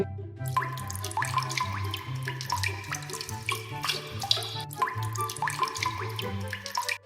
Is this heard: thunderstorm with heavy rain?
no